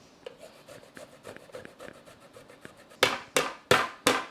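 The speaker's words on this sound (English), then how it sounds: "Definitely use a rasp and this will get a nice fine little mince." Fresh ginger rubbed against a fine rasp for orange ginger beef, a series of soft scraping strokes followed by four louder, sharper rasping swipes, close and alone.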